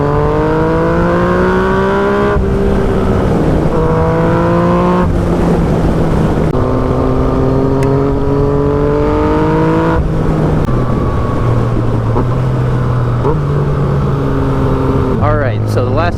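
A 2016 Yamaha FZ-09 motorcycle accelerating on the road, its engine note climbing through several gear changes, loud and close with steady wind rush, while a rider talks over it.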